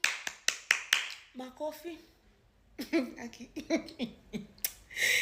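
A few sharp claps open the scene, then talk takes over, with one more clap near the end. The clapping is brief and scattered rather than full applause, and it comes with speaking between the claps.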